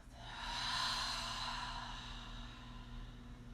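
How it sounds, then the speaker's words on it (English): A slow, soft breath is drawn in through the nose and released through the mouth, a single gentle airy swell that fades over a few seconds in a quiet room. "let's take a breath in through the nose and out through the mouth"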